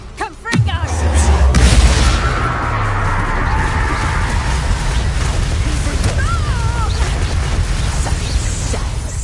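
A booming explosion from a Confringo blasting spell in Hogwarts Legacy on PS5, a sharp bang followed by a heavy low rumble and a long sustained roar, with a voice speaking over it.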